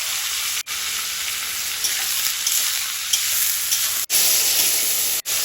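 Meat sizzles hard in well-heated oil with onion, tomato and green chili, a loud, steady frying hiss close by with brief scraping stirs and short breaks, no talk.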